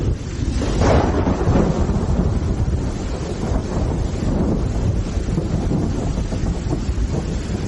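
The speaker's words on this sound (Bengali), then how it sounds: "শেষে একবার প্রচন্ড জোরে বাজ পড়ল।" A loud thunderclap rolls into a long, heavy rumble as a sound effect in a Bengali suspense audio story, with wind and rain-like noise sustained beneath it and no speech.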